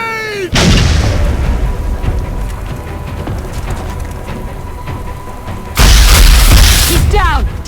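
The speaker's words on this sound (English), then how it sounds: "Grenade!" Loud booming blasts from a grenade in the video game XCOM: Enemy Within, a heavy explosion near the start and another near the end, with sustained rumbling between them under voices calling out.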